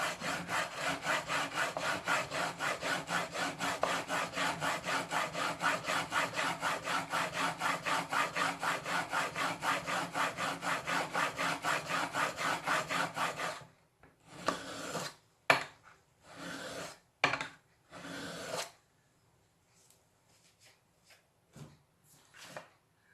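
A blade is sharpened on a whetstone in a fast, even run of rhythmic scraping strokes lasting several seconds, then a few separate, slower rubs broken by pauses, ending quietly.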